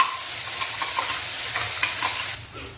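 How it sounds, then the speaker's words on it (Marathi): Ground wet masala, mixed with green peas, is sautéed in a pan, giving a steady close sizzle and hiss with soft stirring scrapes; it quiets abruptly near the end, and nobody talks. "मसाला चांगला मस्तपैकी परतून घेतलेला आहे"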